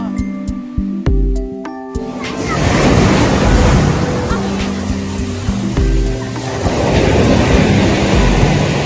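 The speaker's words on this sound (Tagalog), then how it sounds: "Lakas ng alon." Strong ocean waves at a beach resort break and surge in a loud, rushing roar that swells twice, preceded by a few sharp knocks and a tonal hum at the start.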